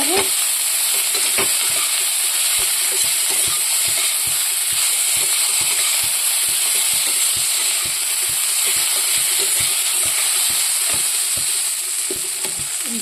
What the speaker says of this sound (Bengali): মশলাটা ভাজা ভাজা করে